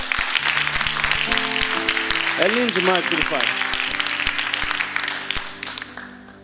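A church congregation applauds steadily in a dense crackle of clapping, while a preacher's voice speaks over it and the applause fades toward the end.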